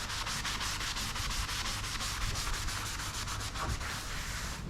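Sandpaper scuffs a weld on a car body ahead of epoxy primer, a steady rapid rasping of back-and-forth strokes, close and continuous, with no talk.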